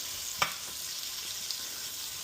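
Steak frying in a pan with Wagyu tallow gives a steady, faint hiss of sizzling that holds even throughout, with one brief sharp clink or pop near the start.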